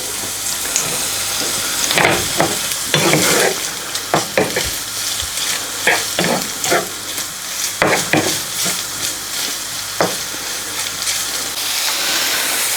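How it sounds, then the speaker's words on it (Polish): Vegetables for a filling fry in a pan with a steady hiss and sizzle, and loud scraping stir strokes come back again and again, close up and without speech. "To już ostatni element, który przypiekam na patelni do mojego farszu."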